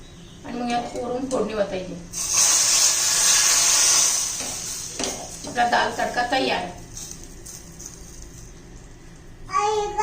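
Hot tempering of curry leaves and asafoetida poured over cooked dal sizzles loudly for about two seconds in a steady hiss, then fades, with someone speaking before and after.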